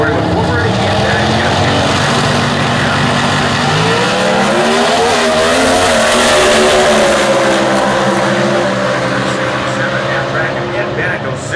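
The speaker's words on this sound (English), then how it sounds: "And the A Dragster 512 cubic inch Dodge motor in there." Comp Eliminator drag cars at the US Nationals in Indianapolis, one an A Dragster with a 512 cubic inch Dodge engine, roar continuously at high volume, pitch rising and swelling midway as they launch, while an announcer talks over the din.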